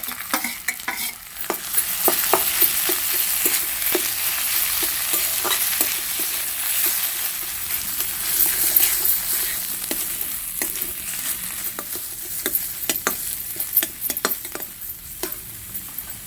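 Chopped tomato fries in a pan for a rohu fish mash, giving a long, steady sizzle close by, with frequent clicks of a utensil stirring and scraping throughout.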